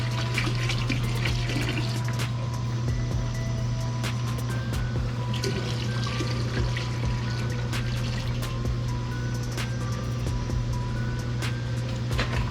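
Degreaser cleaner poured into a 10-gallon water tank of liquid, a steady close splashing and trickling wash of water running continuously under a constant low hum, with no talking.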